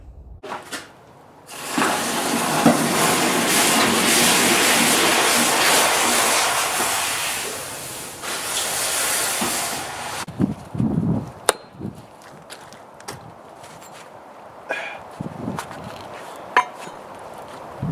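A hot wakizashi short sword blade, 514-layer steel, is plunged into a quench and gives a loud, broad hiss lasting about eight seconds, then dies away into scattered clinks and knocks nearby.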